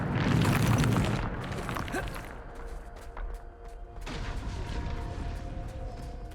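A Bombarda explosion spell goes off in the Hogwarts Legacy video game, a loud booming blast in the first second or so that decays into a rumbling tail and a softer game ambience.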